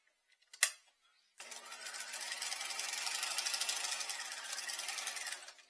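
After a sharp tap, a sewing machine starts up and runs steadily for about four seconds, stay stitching around a fabric patch pocket, a close, even mechanical whir with no talking.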